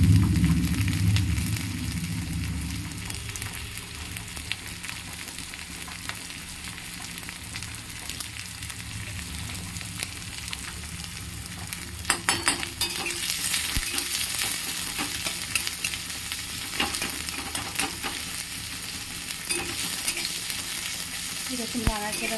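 Onions frying and being stirred in a pan over low heat, a continuous loud sizzle with frequent scraping and clattering of the stirring, close by and without talk.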